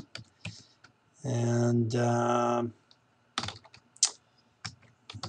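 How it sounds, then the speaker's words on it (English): Someone types a name on a computer keyboard, with scattered light keystroke clicks after a short spoken word, quiet and close. "Let's click on that, and I'll type in my name"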